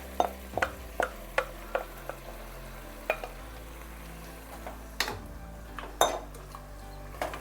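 Marinated mutton with masala, oil and onions being mixed in a pot, a series of distinct metal spoon clinks and scrapes against the vessel over a low sizzle, close up.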